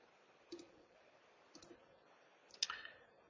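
Computer mouse clicks while operating failover software, three sharp close clicks about a second apart in a quiet room, the last one loudest.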